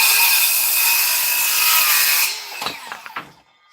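Hand sawing through hickory lumber for a longbow, a loud, continuous rasping stroke close up that stops after a couple of seconds, followed by a few knocks and clatters of wood.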